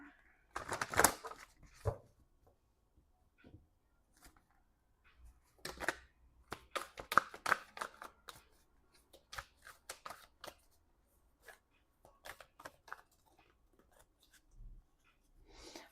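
Tarot cards are shuffled by hand at close range, irregular bursts of riffling and soft slaps separated by quiet pauses, faint and intimate with no talking.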